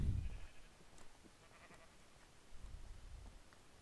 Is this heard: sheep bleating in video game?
yes